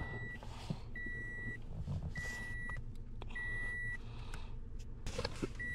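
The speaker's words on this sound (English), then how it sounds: "Now the beeping stopped." Car warning chime caused by a missing fuse, a steady electronic beep sounding in regular long pulses, about four times, over a quiet background.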